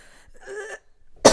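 A single sharp cough bursts out at the very end, preceded by a softer stretch of a voice and breathy sounds; it is meant as a monkey coughing in a storybook tale.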